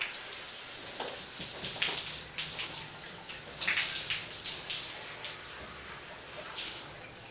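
Hose water rinsing a horse during a bath, a steady close spray with patters and splashes rising and falling as the stream moves over the coat, no talk.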